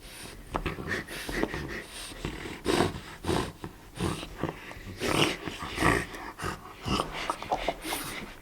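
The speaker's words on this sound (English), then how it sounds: "Oh, I love that bloody dog." A playful dog growls and snorts in close, uneven bursts with heavy breathing between them, loud and near, no talking over it.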